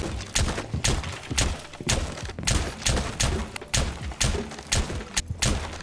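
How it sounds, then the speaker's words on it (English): Shotgun blasts tear into a wall in Rainbow Six Siege, a rapid series of loud, close booms with crumbling debris that repeat roughly every half second for the whole stretch. "when you shotgun a wall, this happens. In Rainbow Six Siege, this happens."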